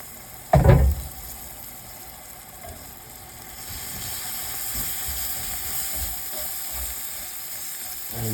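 Mashed garlic browning in a mini cast iron pot, with a loud burst of sizzling as it hits the hot oil, then settling into a steady, close frying hiss.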